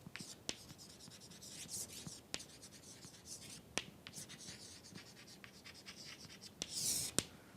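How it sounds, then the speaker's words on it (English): Chalk or marker scratching and tapping on a board during a lecture, with sharp intermittent clicks and short strokes at a moderate distance, a faint hushed voice in the background. "Let me write it down."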